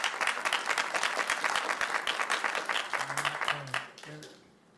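Applause from the audience at a city council meeting, a dense patter of many hands that dies away near the end, with a few spoken words rising over the fading claps.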